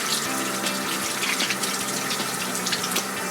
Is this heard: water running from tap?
yes